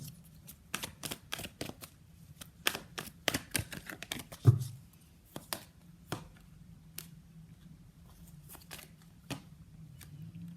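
Tarot cards being shuffled and drawn from a deck, giving a run of crisp, uneven card slaps and riffles over a low steady hum, close and fairly clear, with a brief loud snap partway through.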